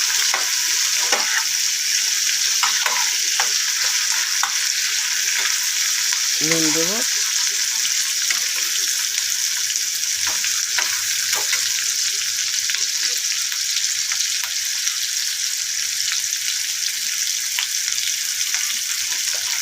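Chopped tomatoes stirred in a hot frying pan, a loud, steady sizzle running throughout with scattered scraping strokes of the spatula and a brief swirling splash partway through.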